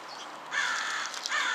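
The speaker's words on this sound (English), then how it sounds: "That damn crow sitting right here." A crow cawing close by, two harsh drawn-out caws separated by a short pause, loud and clear against a quiet background.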